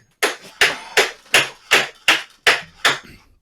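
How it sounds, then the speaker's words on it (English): Eight sharp, evenly spaced hammer blows drive a mic stand into place, each strike loud and close with a quick decaying ring. "I literally have to hammer my mic stand in"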